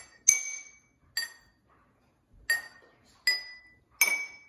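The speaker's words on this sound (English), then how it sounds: "now we just have a more colorful water xylophone, and we have 3 different notes" Colorful water-filled cups played as a xylophone, struck five times in an uneven rhythm to give clear glassy pings on three different pitches, each ringing briefly before fading, close and alone.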